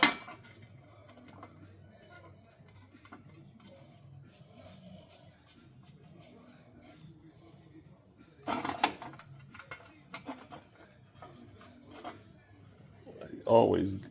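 Small metal screws clink and rattle while a car dust shield is being refitted, faint handling at first, then louder clattering bursts near the middle and the end, with someone talking.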